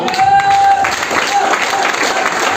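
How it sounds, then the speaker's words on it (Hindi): An audience at a mentorship seminar bursts into loud, dense clapping that fills the room steadily throughout, with a faint voice briefly underneath. "दोनों हाथ ऊपर करके फिर खोल के तालियां"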